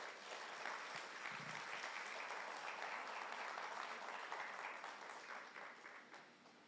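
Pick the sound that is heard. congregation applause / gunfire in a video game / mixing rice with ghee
congregation applause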